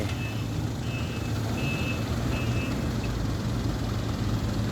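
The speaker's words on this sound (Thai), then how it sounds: "เอาใช้หกล้อนะครับหกล้อทอยดิน ครับ" A six-wheel truck hauling soil reverses at a pond construction site, its engine rumbling steadily while an intermittent high reversing beep repeats through the moment.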